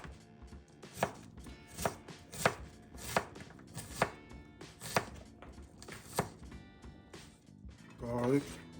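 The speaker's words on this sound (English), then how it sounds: "You guys finish cutting up this onion" A knife chops onion on a cutting board in a home kitchen, with sharp, regular strokes about every 0.7 seconds over a soft background, followed by a brief voice near the end.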